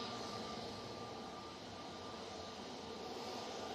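Jet2 Airbus A321neo crossing a taxiway at Manchester Airport, a steady, broad engine roar with a faint whine, heard at a constant level throughout without talk.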